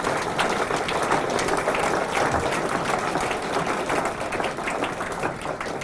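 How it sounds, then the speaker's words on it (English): Guests at a charity gala dinner applaud, a broad, continuous wash of clapping from a large room that holds steady throughout with no voices on top. "they do deserve a big clap"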